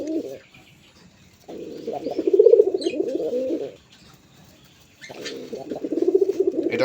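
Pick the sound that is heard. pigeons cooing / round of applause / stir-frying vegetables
pigeons cooing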